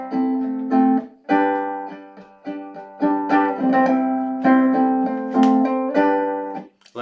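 Ukulele strums a syncopated rhythm for a song, bright chords in choppy bursts with short gaps and accented hits, played up close and alone.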